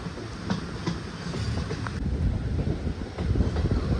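A passenger train on the Kollam to Madurai run rumbles steadily along the rails, a loud continuous rolling roar with wind buffeting and faint rhythmic clacks.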